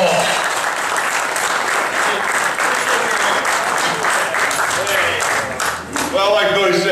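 Warm, sustained applause from a crowd at a sport-fishing hall of fame induction ceremony, steady clapping throughout with a few cheers and a voice rising over it near the close.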